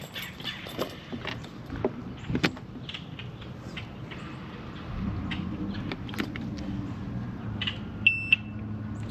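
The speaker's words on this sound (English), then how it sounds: "Okay, we got a working alarm." The warning alarm on a 1998 Evinrude 225hp outboard gives a couple of short, sharp beeps near the end, after scattered mechanical clicks and knocks during the servicing.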